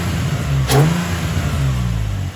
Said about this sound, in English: So we're gonna get a little pull in just to hear the intake.